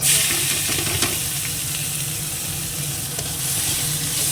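Food frying in oil in a kadai after potatoes with turmeric, a dense continuous sizzle and hiss with occasional stirring clicks, close and steady throughout.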